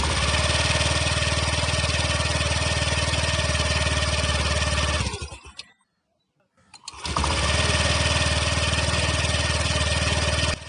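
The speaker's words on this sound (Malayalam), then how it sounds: "എൻജിൻ സ്റ്റാർട്ടാവും." A Honda scooter engine with an ACG silent starter hums steadily, cuts out for about a second, then fires back up smoothly with no starter whine and runs on at a constant close, loud drone.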